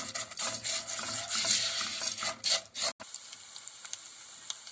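Vermicelli toasting in a pan for yogurt soup, a steady dry scraping and stirring rustle with faint sizzle, close and continuous, briefly pausing near the end.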